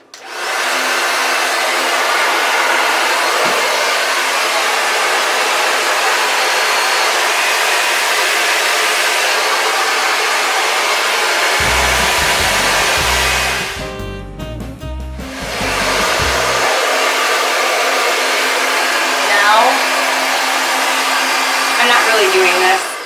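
A hair dryer blows hair dry during a blowout, a loud, steady close-up roar that briefly dips and changes tone as it is moved mid-way, then resumes.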